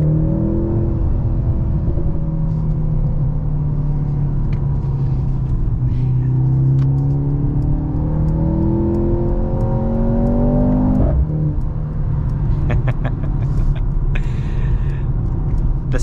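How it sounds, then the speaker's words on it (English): Exhaust note of a 2023 Mercedes-Benz C43 AMG with a 2.0-liter turbo engine while driving, a steady loud rumble rising in pitch as it accelerates through the gears, with a clear shift partway through, heard from inside the car. "The sound from the exhaust is just perfect."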